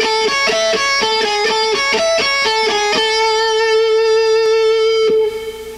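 A slow guitar lick from a speed lesson, a string of distinct, evenly spaced plucked notes that ends on one long sustained tone, loud and alone.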